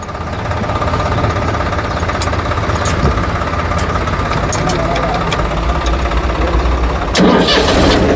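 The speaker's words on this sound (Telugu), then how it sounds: "ఇప్పుడు గేర్ వేయండి స్టార్ట్ చేసి" A Swaraj 744 FE 4WD tractor diesel engine runs loud and steady close by, a continuous knocking rumble that surges briefly near the end.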